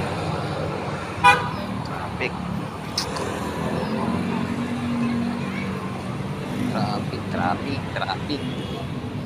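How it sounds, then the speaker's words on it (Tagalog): Road traffic with car horns honking, a sharp horn toot standing out early over a steady rumble of passing vehicles, with more brief toots further off and people talking in the background. "Traffic."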